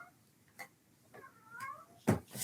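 A cat meows a few times indoors, quiet and somewhat distant, one longer wavering meow in the middle, followed by a louder thump and a rustle.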